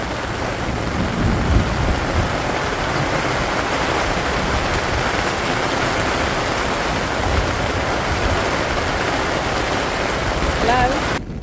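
Heavy rain pours steadily at Hartebeespoort Dam, with thunder rumbling low and continuous beneath the downpour from start to finish.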